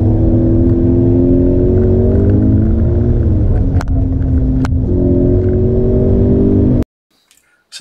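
Formula One car engine at high revs approaching a corner on a wet track, a loud close harmonic howl that dips and rises as the throttle changes, ending abruptly in near silence.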